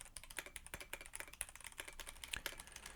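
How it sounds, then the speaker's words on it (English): Rapid keyboard typing, a quick uneven patter of faint clicks with no voices. "I'm going to type on a keyboard."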